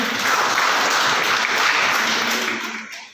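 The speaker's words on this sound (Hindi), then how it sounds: "ओके तालियां हो जाएंगी।" Sustained applause from a crowd filling the room at a children's brain development seminar, steady and loud before tapering off at the end.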